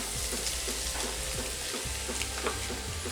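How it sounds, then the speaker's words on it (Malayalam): Vegetable samosa filling with mashed potato is stirred in a hot pan, giving a continuous close sizzle with scraping stir sounds throughout. "ഇതെല്ലാം കൂടി നന്നായിട്ട് ഒന്നുകൂടി ഒന്ന് മിക്സ് ചെയ്ത് കൊടുക്കാം"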